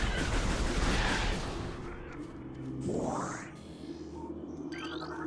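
Gunfire at beetle enemies in Metroid Prime Remastered, a dense stream of blasts over game ambience, followed by a rising sci-fi weapon sweep and softer electronic effects.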